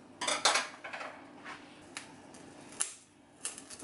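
Charred onion and ginger being turned over in a pan for Vietnamese pho, giving a series of sharp clinks and scrapes of utensil against metal, louder at first then sparse and irregular, close by with no talking.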